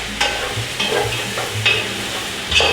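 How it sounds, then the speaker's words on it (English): Spoon scraping and stirring through a pot of vegetable stew with onion, a few distinct stirring strokes over a low simmering sizzle, close and alone. "And I'm going to stir it occasionally."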